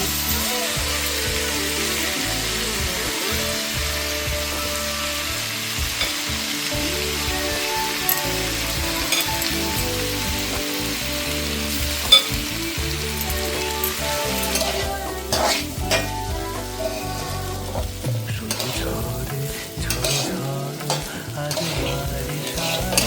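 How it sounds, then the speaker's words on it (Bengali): Lentils and soaked rice fry in a pan while being stirred, a loud continuous sizzle with a busy run of scraping and clattering stirs in the second half. "ডালটা দিয়ে ভালোভাবে নেড়ে চেড়ে এরপর আমি চালগুলো, ভিজিয়ে রাখা চালগুলো এর মধ্যে দিয়ে দেব।"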